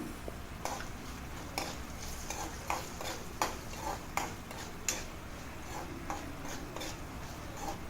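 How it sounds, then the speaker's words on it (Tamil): Fenugreek and red chillies frying in oil, a soft sizzle under repeated light stirring taps and clinks from a spoon against the pan, moderately quiet and close. "மிளகாய் எண்ணெயில் கொஞ்சம் பொரியட்டும்"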